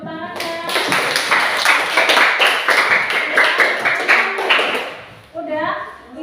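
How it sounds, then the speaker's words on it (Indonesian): A classroom of students claps together in a burst of fast, crisp hand claps lasting a few seconds, framed by a teacher's voice before and after. "Beri tepuk tangan ya."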